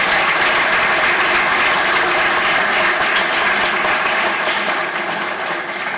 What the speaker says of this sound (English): May I please have a round of applause?